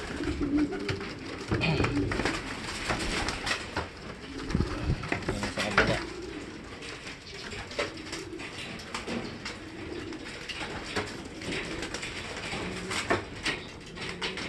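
Several racing pigeons coo softly and repeatedly nearby at a derby, with scattered rustling and occasional brief talk in the background.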